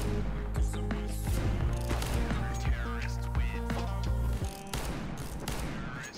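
Rapid gunfire in a professional Counter-Strike esports match, bursts of shots crackling continuously alongside game effects and excited commentator talk throughout.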